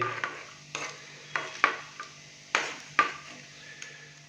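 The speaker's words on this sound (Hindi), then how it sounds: "ये डाल देंगे और हल्का सा इनको रोस्ट कर लेंगे जस्ट 30 सेकंड के लिए" Cloves and black peppercorns roasting in a pan for beef masala curry, heard as a faint dry sizzle punctuated by about eight distinct scraping stirs and light metallic clinks of a spoon against the pan, close and without speech.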